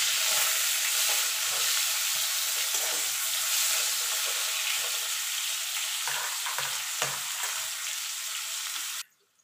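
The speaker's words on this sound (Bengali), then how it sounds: "দেখুন বন্ধুরা আলুগুলো লাল লাল করে ভেজে নিয়েছি" Potato pieces frying in oil with turmeric and salt, a continuous soft sizzle with occasional stirring knocks, fairly quiet, cutting off abruptly at the end, no voices.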